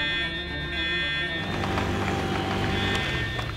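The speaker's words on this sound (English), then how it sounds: "The alarm's going!" An alarm sounds for a downed dinosaur paddock fence at a T-Rex ranch, a steady, loud buzzing siren tone holding throughout with a bright high whine on top.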